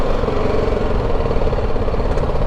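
Motorcycle engine idling in the old town streets of a Palestinian city, a loud, close, steady mechanical chug with a rough uneven ripple and no talk over it.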